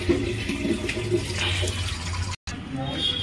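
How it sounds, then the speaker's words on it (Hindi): Water poured to refill a pet's water container, a steady splashing flow with a brief cutout near the end, heard near and fairly loud. "इसका भी पानी भर दिया है"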